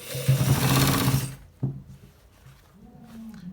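A sewing machine stitches a designer button shirt in a loud, fast, whirring burst that runs for over a second and then stops abruptly, followed by a sharp clack and quieter handling noises.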